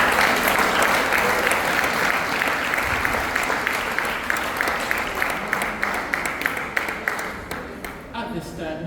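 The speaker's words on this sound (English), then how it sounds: "Give him another round of applause" Sustained applause from a lecture audience at a Founder's Day lecture honouring a speaker, dense clapping filling the room for most of the stretch, then thinning into scattered claps near the end.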